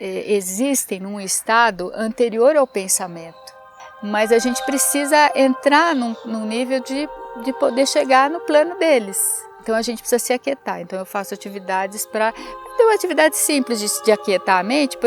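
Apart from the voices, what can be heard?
No everyday noises stand out.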